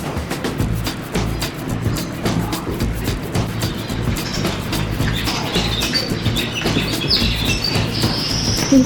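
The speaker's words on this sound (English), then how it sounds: "See the bird? Keeping his distance." A bird chirps repeatedly in quick, bright tweets over steady low background noise outdoors, fairly close and continuing throughout.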